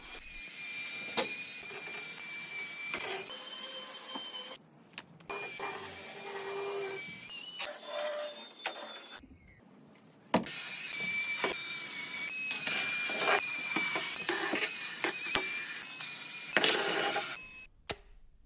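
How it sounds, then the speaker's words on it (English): A Ryobi 18V telescopic power scrubber with a medium brush runs continuously, whirring and scrubbing a dirty, cobwebbed outdoor surface, with brief pauses and restarts, close and fairly loud. "He started with the telescopic power scrubber and the medium brush and got rid of all the spider webs and dirt on the surface"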